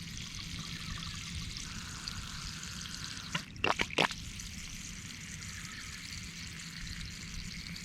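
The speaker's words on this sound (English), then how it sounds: "once the water from the tank is run out of the hose, of course it'll act as a siphon and pull up the water from the hole" Water siphoning out of a hose drawn from a tank and a hole gushes and trickles steadily throughout, with a brief cluster of louder splashes or gurgles near the middle.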